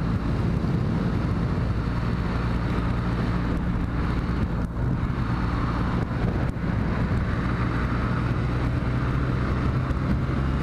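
A Kawasaki W800 motorcycle on a test ride, a steady low engine drone under heavy wind rush, loud and continuous, with no talking.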